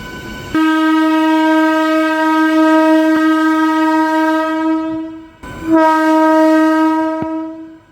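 A train hauled by a WAP-7 electric locomotive, arriving at Nidadavolu Junction, sounds two loud, sustained horn blasts, a long one followed by a shorter second after a brief gap.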